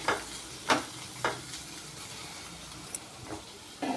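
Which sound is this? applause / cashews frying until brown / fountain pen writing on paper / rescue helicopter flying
cashews frying until brown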